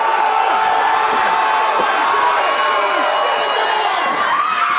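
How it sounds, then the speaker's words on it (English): Wrestling fans at a ladder match cheer, whoop and shout in a loud, continuous wall of crowd noise that surges and holds throughout. "fans continue to push and applaud for Luke Hawx"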